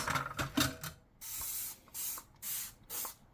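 Dawn Ultra Platinum Powerwash dish spray hisses out of its trigger sprayer in four steady bursts, each lasting about a third of a second, with short pauses between them; quieter handling clatter comes before the bursts.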